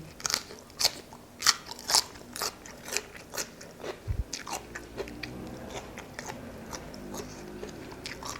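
Crunchy spicy Thai raw shrimp salad with chilies eaten close up: loud, crisp biting and chewing crunches in an uneven rhythm, easing into softer, steadier mastication with no talking.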